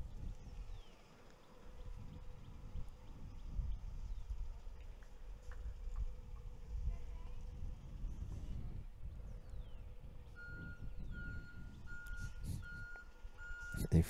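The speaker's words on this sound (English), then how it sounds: "Perhaps you've heard the reverse beeps coming through." A bus reversing while turning into a parking lot beside a tennis court, its backup alarm beeping in a steady, evenly spaced series in the latter part, mid-distance over a constant low engine rumble and outdoor background.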